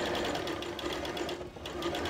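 A sewing machine stitches fabric rolled up to pass through the machine's throat, a continuous fast mechanical whirring with a rapid rhythmic needle pulse and a brief dip near the end.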